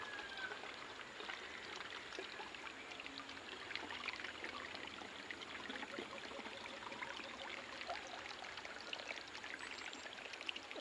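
Water gushes steadily through an enlarged hole, a continuous faint rushing and splashing flow lasting several seconds with no voices.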